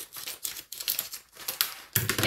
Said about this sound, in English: Cut the bag open completely so it dumps out nicely.